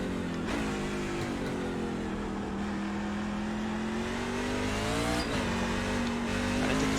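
A NASCAR Class C truck engine in iRacing revs loudly and continuously, its pitch rising and dipping with throttle through hilly corners, with no voices over it.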